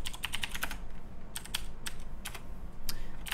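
Close, brisk typing of code on a computer keyboard, with quick clusters of key clicks broken by short pauses and no talking.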